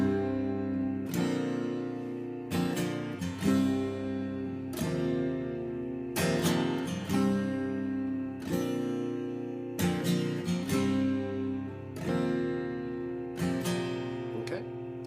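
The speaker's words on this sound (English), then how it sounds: "when you put them together, the riff sounds like this" A guitar riff repeats in a steady pattern, bright picked notes ringing over low open strings, played close and clear with no talking.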